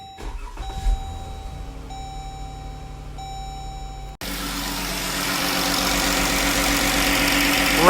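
A 2014 Jeep Grand Cherokee after an oil change: several chimes beep from the dash, then the engine cranks and catches at the midpoint and settles into a steady, close idle.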